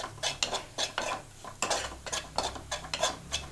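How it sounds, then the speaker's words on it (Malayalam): A spoon stirs soya roast in a pan, with steady scraping and clinking strokes at an even rhythm, close and fairly quiet, and no talking. "റോസ് സ്മെല്ല് പൂർണ്ണമായി മാറുന്ന വരെ ഇളക്കി കൊടുക്കുക"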